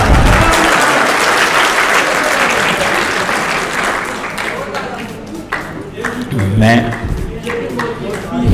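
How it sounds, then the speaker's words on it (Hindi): Audience applause fills a comic Urdu poetry recital, loud and sustained, with clapping thinning slightly toward the end as a voice begins speaking over it. "इनकी कंपेयरिंग के लिए तालियां जरा हो जाए।"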